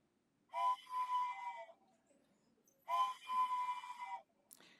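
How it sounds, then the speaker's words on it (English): Train whistle sound effect in a radio play, two long steady harmonic blasts about two seconds apart, each holding for over a second against near silence. "You'll hear a train whistle."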